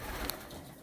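In a pigeon loft holding Janssen birds, a single short, soft coo rises briefly from a steady background hiss.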